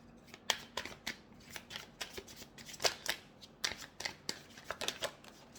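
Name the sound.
tarot cards being shuffled and drawn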